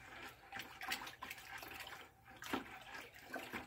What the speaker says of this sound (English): let me go put some water in here and mix in my lye